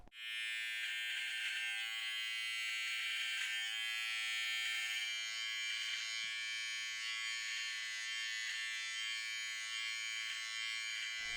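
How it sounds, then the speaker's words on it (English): A Wahl electric beard trimmer fitted with a number 1 guide comb runs continuously close by, a steady high buzzing whine with slight fluctuations as it moves through beard hair. "attach your number 1 guide comb to your trimmer. And then you're going to want to trim below your jawline"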